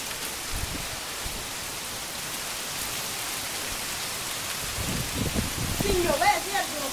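Rain with breeze and hail in El Molino, La Guajira, a dense continuous hiss of falling water that thickens toward the end, with faint voices in the background.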